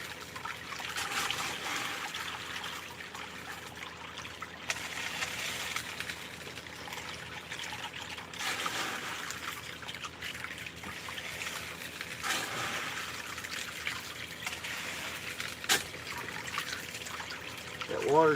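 Water running steadily through a backyard gold-prospecting sluice, a continuous trickling and gurgling stream at moderate loudness, with occasional splashes and faint talk at times.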